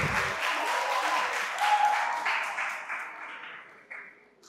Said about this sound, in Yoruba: Ẹ bá ń pàtẹ́wọ́ fún.